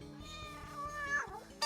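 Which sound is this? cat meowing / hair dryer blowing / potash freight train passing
cat meowing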